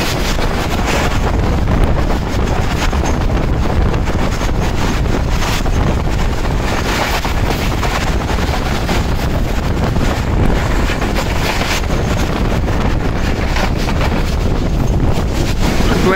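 Shalimar Express train running at speed on a non-stop journey, heard from onboard as a steady rushing roar with heavy wind buffeting the microphone and a constant rumbling rattle, no voices.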